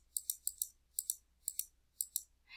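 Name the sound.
computer mouse double click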